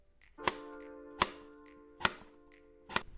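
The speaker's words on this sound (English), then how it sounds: "We're also going to thinly slice half an apple." A knife thinly slicing half a green apple on a cutting board, four crisp, evenly spaced chops with sharp taps and short ringing decays, close and alone.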